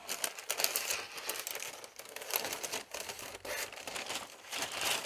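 Lining material is folded and pressed into the corners of a wooden soap mold, producing continuous close, soft crinkling and rustling with small irregular bursts, fairly quiet and with no talking.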